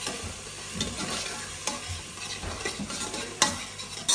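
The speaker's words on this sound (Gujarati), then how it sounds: "ફટાફટ આ કુકરમાં વઘારી દઈશ" Vegetables for undhiyu sizzle steadily as they are tempered in a pressure cooker while a spoon stirs and scrapes, with a few louder clinks near the end.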